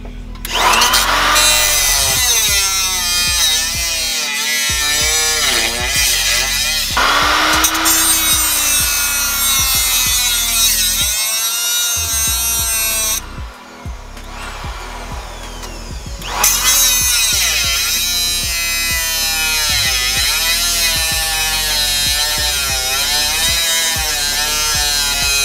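Loud continuous grinding of a power cutting tool notching the rear steel frame of a Lexus LS400, a harsh rasping whine that pauses briefly midway before resuming close and steady.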